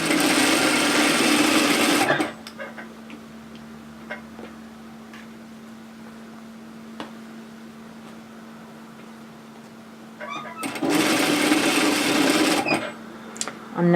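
A sewing machine stitches the shoulder seam of a woven kimono robe in two loud, steady whirring bursts, with a quiet hum and small clicks between them.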